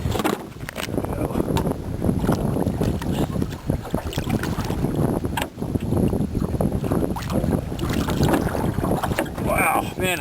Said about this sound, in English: Man, is that windy.